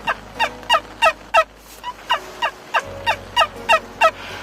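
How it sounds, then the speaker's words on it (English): A wild turkey gobbles down a ridge in spring in a rapid, rhythmic series of sharp, rattling calls, fairly close and clear, about a dozen bursts in quick succession. "got a bird gobbling right down the ridge"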